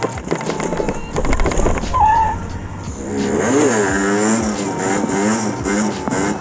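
A moped rides down a stair, its small engine revving and whining up and down at close range, with rattling knocks and a brief squeal along the way.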